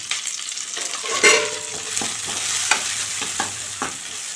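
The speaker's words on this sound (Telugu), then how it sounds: "ఇందులో లైట్గా కొంచెం ఫ్రై అవ్వాలి ఆనియన్స్ పచ్చిమిర్చి ఫ్రై అయినాయి" Onions and green chillies frying in a pan with curry leaves, the close sizzle punctuated by regular spoon strokes against the metal and a low hum underneath, with no one speaking.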